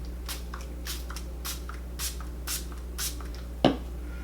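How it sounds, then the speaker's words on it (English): Setting spray mists onto a face in quick, short hissing bursts, about six of them spaced evenly, close and fairly soft, followed by a sharp click. "Drown your face in setting spray after all this."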